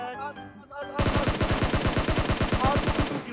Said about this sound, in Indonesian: Tembak di mana-mana, gua berasa kayak World War II